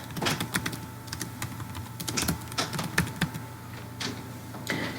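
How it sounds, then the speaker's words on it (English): Steady typing on a computer keyboard, a run of quick irregular keystrokes with short pauses, close and clear over a faint background hum. "just type in salary increases"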